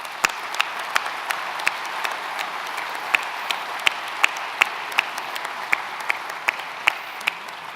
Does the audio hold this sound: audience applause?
yes